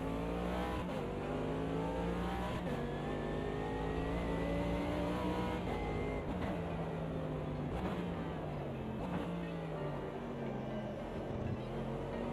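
Race car engine droning steadily through a practice lap in a multiclass racing video game, rising and falling in pitch through gear changes and corners, continuous and fairly close with no talking.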